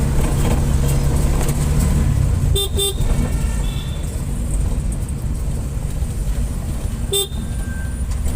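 Busy city road traffic on Uthamar Gandhi Salai in Nungambakkam, Chennai, rumbles steadily, with engines passing and several short horn toots sounding over the constant noise.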